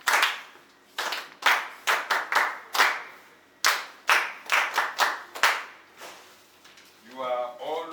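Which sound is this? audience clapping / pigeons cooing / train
audience clapping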